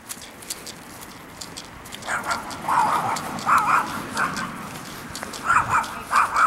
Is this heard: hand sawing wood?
no